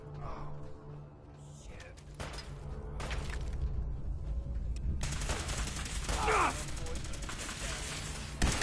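Bursts of gunfire in a Fallout 4 firefight, with a sustained volley of rapid shots, layered with intermittent single cracks, that swells loudly from midway and plays over game ambience.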